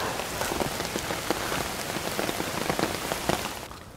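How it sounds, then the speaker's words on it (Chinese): Heavy rain pours down steadily outdoors, a dense, continuous hiss of drops striking surfaces with no voices, tapering off slightly at the very end. "那这个时候突然过几秒钟，一场大雨就下下来了"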